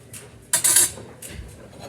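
A spoon scrapes and clinks through a cream cheese mixture in a bowl for fried pickle balls, with a sharp burst of stirring midway and a softer scrape near the end.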